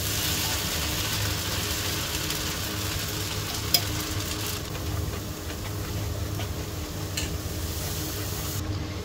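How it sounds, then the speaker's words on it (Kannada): Cashew fruit frying in ghee in a heavy-bottomed pan, a steady close sizzle with occasional scraping and clicking of stirring, continuing evenly throughout with no talking. "ಇದೀಗ 10 ನಿಮಿಷ ಆಯಿತು ನಾನು ಇದನ್ನು ಫ್ರೈ ಮಾಡ್ತಾ ಇರೋದು"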